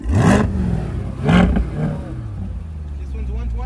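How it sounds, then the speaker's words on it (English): A car engine in sport mode revs up sharply twice in quick bursts, then settles to a lower hum, with people speaking over it. "Now it's on sport mode. All sport mode revs, guys."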